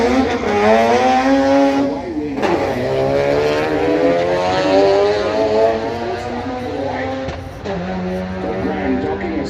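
A Ford Falcon drag racing car accelerates hard down a drag strip at a street meet. The engine roars loudly and its pitch climbs through gear changes, while a commentator talks over it.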